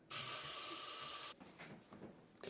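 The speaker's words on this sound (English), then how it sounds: "And then I cover them with cold water." Cold tap water gushes into tubs of boiled eggs, a steady close hiss for over a second that cuts off abruptly, leaving faint handling sounds.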